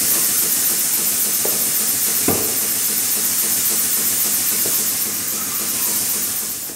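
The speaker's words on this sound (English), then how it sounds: "Should be sucking up our Dexcool" A Robinair CoolXChange machine drawing Dexcool coolant through its hose, a loud steady hiss with a brief knock partway through, easing slightly at the end.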